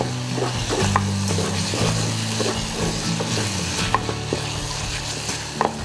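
Galangal, kaffir lime leaves and bay leaves stir-fried in hot oil in a pan: a steady close sizzle with repeated scraping strokes of a spatula, occasional clinks against the pan, no talking.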